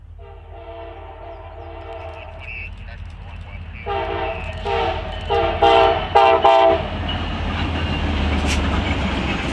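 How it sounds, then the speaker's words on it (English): The CSX Office Car Special, led by CSX P001, rounds a curve approaching another freight, sounding its multi-chime horn in a long blast and then several short bursts over a low rumbling engine and rolling wheels, fairly close. "the CSX Office Car Special, CSX P001, can be seen here rounding the curve approaching CSX QD128"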